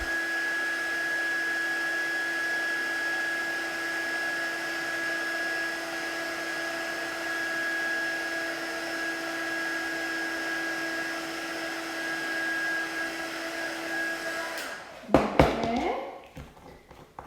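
A handheld heat tool blows a steady, even whir while melting metallic gold superfine embossing powder, then cuts off abruptly near the end, followed by a few light clicks and knocks.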